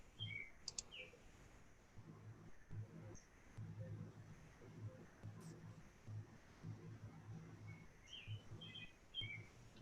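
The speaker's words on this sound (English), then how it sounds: "hear birds. I know." Faint, scattered bird chirps come through now and then behind steady talking voices.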